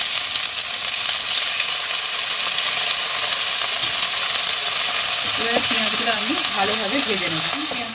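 Chopped onions frying in a pan with spices give a loud continuous sizzle, joined in the second half by scraping stirring strokes and a soft voice underneath.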